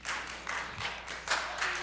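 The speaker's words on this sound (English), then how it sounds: "I don't think we should be clapping" Audience clapping at a Peoria city council meeting: a short, steady burst of applause from several people in a hall, fairly even throughout with a couple of louder swells, no talk over it.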